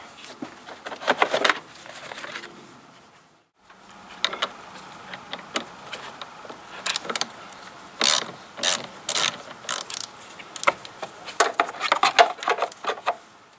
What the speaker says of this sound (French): je vais débrancher la batterie, puisque là on va toucher au faisceau électrique